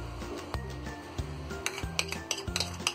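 Mayonnaise and sauce being mixed in a bowl for sandwich dhokla, a utensil clinking against the bowl in a steady rhythm of close, sharp taps and scrapes, with no voices.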